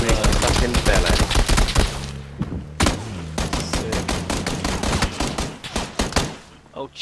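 Rapid bursts of gunfire from the battle royale game PlayerUnknown's Battlegrounds, dense volleys of shots cracking close and loud with brief gaps, ending in a few scattered single shots.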